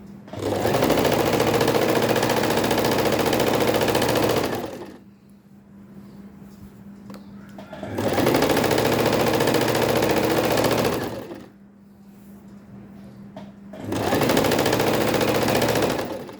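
Three separate runs of a sewing machine fitted with a 6mm rolled hemming foot, each a loud, close, fast mechanical whir of several seconds, with quiet pauses between them.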